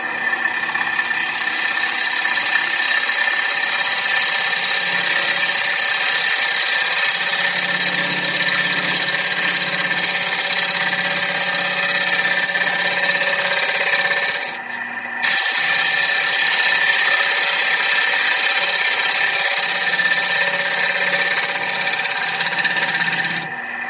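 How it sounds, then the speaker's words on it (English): Steady motor hum with a high scraping whine as a wood lathe turns a wooden bowl under a scraper, continuous and loud with one brief dip midway. "I'm going to switch to a different scraper"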